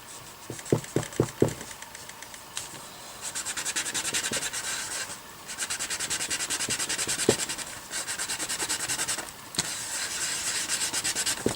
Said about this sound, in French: on va la poncer